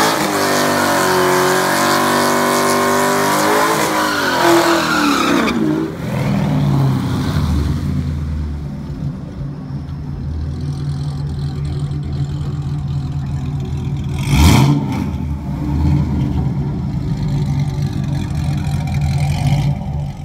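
A Camaro 1LE with manual clutch on a drag strip at night, engine climbing hard through the gears at close range, then dropping to a lower rumble and idle with a brief loud burst midway.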